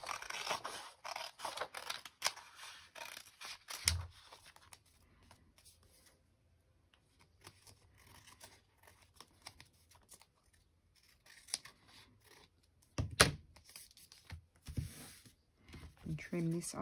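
Scissors snip and trim paper up close in a quiet craft setting, several bursts of crisp cutting separated by long near-silent gaps, with soft rustling and a few quiet voices.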